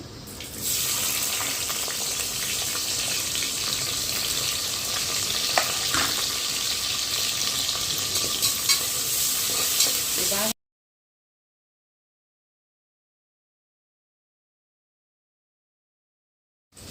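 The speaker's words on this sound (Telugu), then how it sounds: "ఎర్రగడ్డలు అయితే మంచిగా ఎగినాయి అనమాట" Onions frying in hot oil inside a pressure cooker, a continuous close sizzle with faint stirring scrapes for about ten seconds before the sound cuts to silence.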